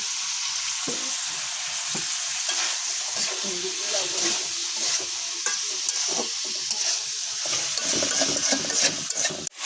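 Potatoes fry with turmeric and salt in a pan, a steady close sizzle broken by the scrape and clatter of stirring, while people talk over the cooking.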